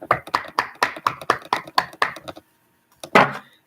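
A rapid series of sharp knocks on a deck of cards, about a dozen in quick rhythm, then a brief pause and another louder knock.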